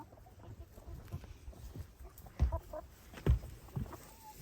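Chickens cluck softly inside a coop during mucking out, with a low steady murmur and two louder clucks or bursts standing out near the middle and later, no talk.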